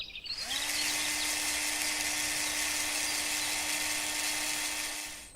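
A steady high-pitched drill whirs continuously for several seconds, close and unbroken, winding down slightly at the end.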